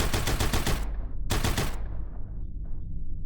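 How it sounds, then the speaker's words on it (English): Rapid bursts of gunfire, two loud volleys of fast repeated shots separated by a brief gap, then a lingering low rumble. "was soon apprehended by the sound of gunshots in the shadows"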